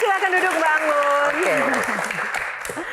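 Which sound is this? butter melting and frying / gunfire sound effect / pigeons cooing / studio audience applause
studio audience applause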